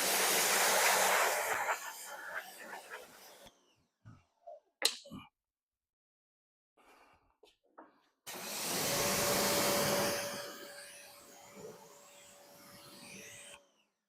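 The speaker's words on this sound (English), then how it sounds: "Let me rinse off our tire brush real quick." Water sprays hard over a tire brush during wheel cleaning, a loud steady rush that stops abruptly, followed by a few scattered knocks and splashes, then a second long spray with a faint steady tone riding through it.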